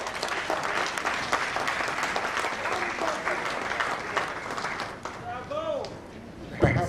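An audience breaks into sustained applause after a speech at an assembly, a dense wash of clapping that holds steady and then thins out toward the end, where a voice speaks over the fading claps.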